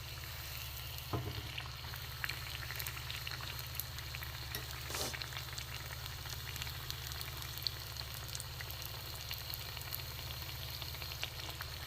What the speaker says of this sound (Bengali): আমি সাদা তেলেই ভাজছি, অনেকে সরষের তেলে ভাজে